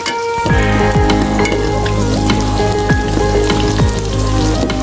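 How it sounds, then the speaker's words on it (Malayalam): Onions fry loudly in hot oil after mustard seeds, a dense close crackling sizzle with steady spattering throughout and occasional stirring scrapes. "അതിലോട്ട് സവാള ചേർത്ത് കൊടുക്കാം"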